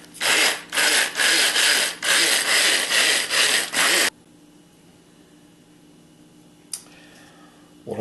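Nuts whir in a food processor being ground for financier batter, a loud churning buzz pulsing in about eight short bursts over four seconds, then quiet with one faint clack.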